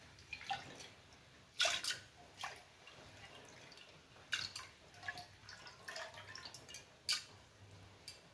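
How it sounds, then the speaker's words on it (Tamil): Faint, close splashing and swishing of water in a container, with scattered drips and small sloshes, as toor dal (split pigeon peas) is rinsed by hand. "தண்ணியில் அலசிட்டு துவரம்பருப்பு போடலாம்"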